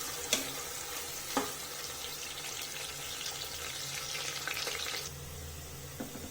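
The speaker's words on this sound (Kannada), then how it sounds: "ಇವಾಗ ಈ ಈರುಳ್ಳಿನ ಫುಲ್ ಗೋಲ್ಡನ್ ಬ್ರೌನ್ ಆಗೋವರೆಗೂ ಹುರ್ಕೋಬೇಕು. Full deep fry ಆಗಬೇಕಿದು." Onions deep frying in oil toward golden brown give a steady, fairly quiet bubbling sizzle, with a few sharp ladle taps and stirring clinks.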